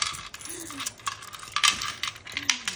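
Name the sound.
coins from a piggy bank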